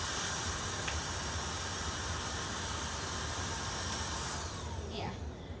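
A Shark Rocket Pet Pro cordless vacuum cleaner runs with a steady, close whooshing hum. It eases slightly and gives a brief whistling sweep near the end, with no talking.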